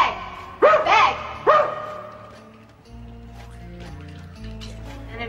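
A person imitates a dog on command, giving two loud, yelping barks close by, followed by quieter humming tones.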